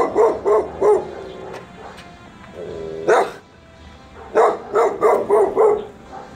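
Several territorial dogs bark in short bursts nearby, a cluster of barks, a pause with a whine, then another run of rapid barking.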